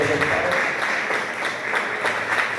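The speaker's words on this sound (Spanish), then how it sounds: "Denle un fuerte aplauso al Rey de los cielos de los Padres." A church congregation claps steadily in a dense, even wash of applause that holds at a constant level, with voices faintly mixed in underneath.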